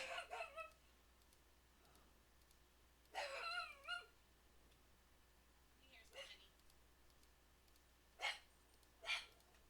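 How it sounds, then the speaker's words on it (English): A pet dog barks in short bursts in the background while a field is being cut and edged, several separate faint yelps spread across the moment. "that's my dog you'll hear in the background"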